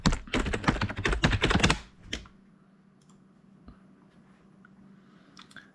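Fast, loud bursts of typing on a computer keyboard rattle close by for about two seconds, then stop, leaving a quiet room with only a few scattered faint clicks.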